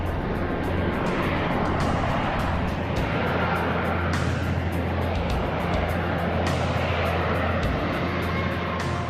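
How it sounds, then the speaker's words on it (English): Harrier jet engine roaring steadily as the aircraft comes in to land on the carrier USS Saipan, a loud continuous rumble and whine with no voices. "At the end of every mission, they face the challenge of landing on the carrier."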